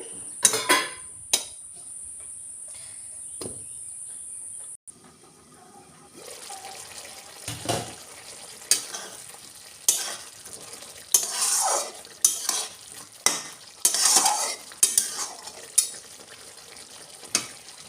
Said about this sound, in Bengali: পাঁচ ছ মিনিট ধরে মশলার সঙ্গে কুঁধিটা কষিয়ে নিয়ে